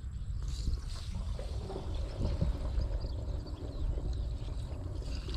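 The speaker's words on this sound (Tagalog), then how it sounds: "So lalagyan na natin siya ng tubig." Water pours steadily into a herbicide mix being prepared for crop spraying on a farm, a continuous close splashing and gurgling with a low rumbling undertone lasting throughout, no talk.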